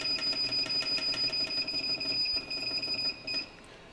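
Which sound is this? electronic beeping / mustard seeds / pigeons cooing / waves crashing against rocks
electronic beeping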